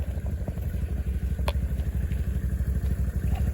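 A motorcycle engine runs steadily beside a river after trout stocking, its low rumble constant and close with one brief clatter partway through, no talk.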